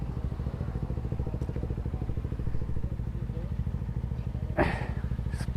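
An Aprilia RS 457 motorcycle underway on a ride from Bengaluru, a steady throbbing engine drone close and continuous, with a brief sharp scrape or rustle near the end.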